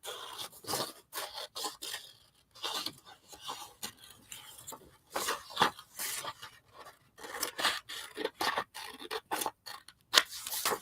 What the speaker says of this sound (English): Well, I'm going back to the big scissors.